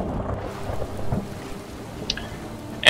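Thunderstorm in the video game Skyrim: low rumbling thunder with rain hiss and water sounds, steady and moderately loud, with a brief sharp sound at the end.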